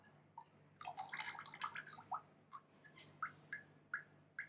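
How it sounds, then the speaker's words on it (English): Ceramic glaze drips off a dipped piece into a bucket, a quick cluster of liquid patters followed by slower, separate drops falling at near range in a quiet room. "We'll let that drip over the bucket"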